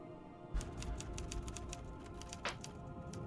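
Quick, light typewriter key clacks from the video game Alan Wake Remastered rattle off in a short irregular burst, soft and fairly distant, with a slightly heavier strike near the end.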